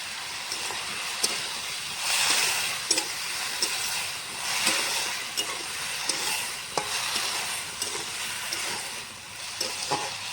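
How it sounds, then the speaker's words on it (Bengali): Taro corm (kochu) seasoned with salt and turmeric frying slowly in a pan, with a steady broadband sizzle and repeated stirring scrapes and clicks throughout, close and moderately loud with no talk. "কচুটা আমি এখন ধীরে ধীরে ভাজবো,"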